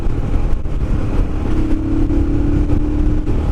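A Royal Enfield Himalayan motorcycle engine runs at full throttle, a loud, close, sustained drone with a rising tone through the middle and steady wind rush over it.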